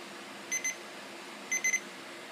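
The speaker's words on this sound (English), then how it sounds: "Here, I'll demonstrate the timer. I'm going to put it on 5 seconds." A clock's timer alarm, set for five seconds, goes off with two short bursts of high electronic beeps, about a second apart, quiet against a soft room background.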